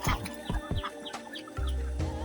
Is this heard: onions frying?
no